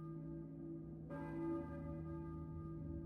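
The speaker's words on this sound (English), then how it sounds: "I hear a church bell, maybe? Who is ringing the bell?" A church bell rings inside the Silent Hill video game, a single resonant strike that swells over a low droning ambient hum and lingers with a long humming decay.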